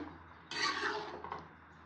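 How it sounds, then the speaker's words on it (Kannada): A steel plate scrapes and rubs against a pan as vegetable upma is stirred, making a brief gritty swish followed by a second, shorter scrape. "ಹಾಗಾಗಿ ಒಂದು ಸಾರಿ ಪ್ಲೇಟ್ ತೆಗೆದು ಈ ರೀತಿ ನೀಟಾಗಿ ಮಿಕ್ಸ್ ಮಾಡ್ಕೊಬೇಕು."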